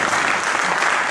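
Hall audience at an Iqbal Week thinkers' forum in Sialkot breaks into loud, dense applause, a steady burst of many hands clapping together.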